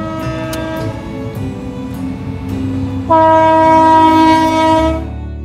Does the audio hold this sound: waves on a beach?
no